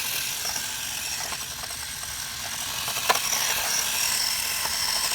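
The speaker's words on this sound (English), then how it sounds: "It's just a little brush motor." A 1/18 HBX 2188A RC drift car with a small brushed motor whirs and buzzes with a high electric whine, a few ratchety clicks and one sharp knock over a steady hiss.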